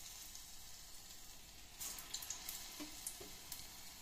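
Baby corn bajji pieces in batter sizzle steadily in hot oil, a soft, continuous frying hiss with faint crackles and small pops, heard alone at low volume.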